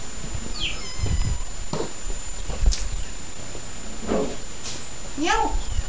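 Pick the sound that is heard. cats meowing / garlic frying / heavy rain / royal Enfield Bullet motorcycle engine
cats meowing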